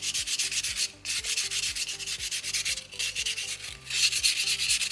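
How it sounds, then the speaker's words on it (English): Sandpaper rubs steadily back and forth over a soapstone owl carving, a close, continuous rasping scrape in rapid strokes with two brief pauses. "So if you did a great job with the first 2 sanding stages, sandpaper 3 should be the fastest step."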